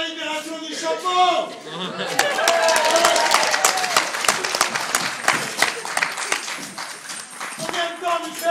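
Applause at a year-end meal: after a few spoken words, a room of diners breaks into sustained, close clapping that gradually thins out, with scattered voices and laughter mixed in.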